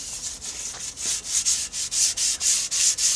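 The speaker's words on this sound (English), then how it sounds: "I'm gonna give it a rough scrub down, see if I can get as much out as possible" Blue scrub pad rubbing hard over a dirty porcelain urinal, steady back-and-forth strokes in a quick rhythm of bright, raspy swipes, close and fairly loud with no voices.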